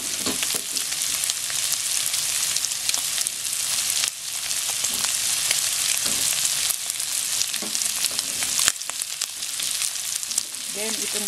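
Carrot sizzling and frying in a hot pan for ginisang toge, a steady bright crackle with occasional stirring scrapes running throughout and no voices.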